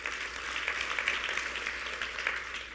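Audience applause for student scholars at a school district State of the District address, a steady wash of clapping sustained evenly throughout at moderate, slightly distant level.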